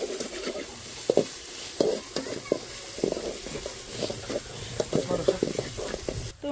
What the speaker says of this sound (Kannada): ಈರುಳ್ಳಿ ಸ್ವಲ್ಪ ಈಗ ಫ್ರೈ ಮಾಡ್ಕೊಳ್ಳೋಣ